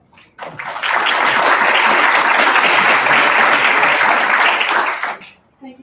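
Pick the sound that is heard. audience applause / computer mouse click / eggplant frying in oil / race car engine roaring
audience applause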